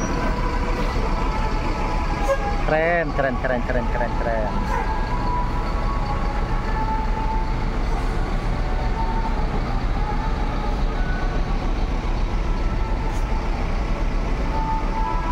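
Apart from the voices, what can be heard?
ANS Luxury Class bus, Mercedes-Benz OH 1626, departing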